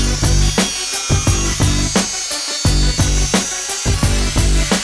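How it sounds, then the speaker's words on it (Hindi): An angle grinder cuts through plastic while a homemade cooler is being built, giving a loud, continuous whine that pulses in a fast, regular rhythm as the blade bites, close up with no talking. "भाई मैं एंगल ग्राइंडर का यूज कर रहा हूँ कट करने के लिए।"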